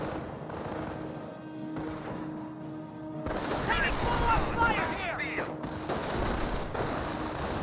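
Rifle suppressive fire and battle noise in Company of Heroes 1, a US versus Panzer Elite match, with dense bursts of gunfire and crackling shots that swell suddenly midway, while a commentator talks throughout.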